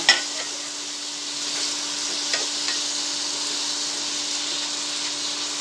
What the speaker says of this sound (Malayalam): നമുക്ക് ഈ അരിഞ്ഞച്ച തക്കാളി ഇട്ടെടുക്കാം